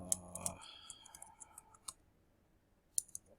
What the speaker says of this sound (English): you go to type passwd and then the username